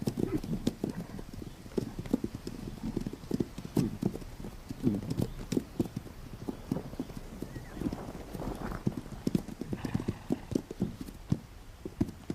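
Wild horses in the Pryor Mountains clip-clop on arid ground, a steady, overlapping patter of many hoofbeats at moderate distance, continuing for over ten seconds.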